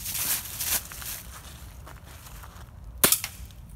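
Toy gun fired at bottles outdoors: one sharp crack near three seconds with a quick echoing tail, among rustling and soft movement noises, with no talk.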